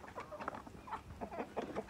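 A Rhode Island Red chicken clucks softly and repeatedly in a farmyard, faint and somewhat distant, among scattered low background noise.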